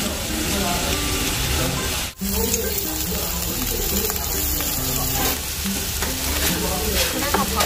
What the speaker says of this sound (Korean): 말 그대로 있는 재료 다 때려넣고 볶아주시면 되는데요